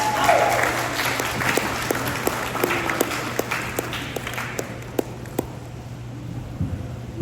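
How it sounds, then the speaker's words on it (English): A round of applause from a concert audience at the Sutter Creek Ragtime Festival Saturday night show, strong at first then thinning into scattered individual claps, with a steady low hum throughout. "Give a round of applause."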